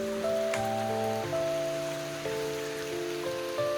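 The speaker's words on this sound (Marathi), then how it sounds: "खूप जास्त भयंकर पाऊस चालू आहे इथे" Heavy rain pours down at a temple, a steady, close hiss of drops drumming on surfaces that runs unbroken through the whole stretch, with sustained melodic tones held over the downpour.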